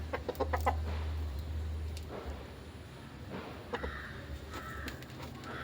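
Chickens on a farm in Kuttanad, Kerala, clucking and calling repeatedly at close range, with short bursts of fowl vocalisation over steady low background noise and no talk.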